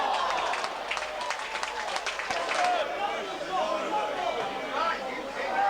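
A large Cumbrian football crowd roars at a Barrow match, a dense steady wash of cheering and clapping that holds at a constant level throughout.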